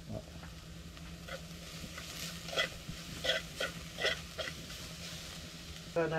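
Chilli powder stirred into a sizzling tempering in a pan, a steady low fry with soft scraping strokes of a spoon at irregular intervals, close and fairly quiet.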